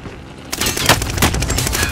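Rapid automatic gunfire from a Call of Duty Warzone Plunder match bursts in after a brief quiet start, a loud, dense fusillade of shots and impacts that continues steadily to the end.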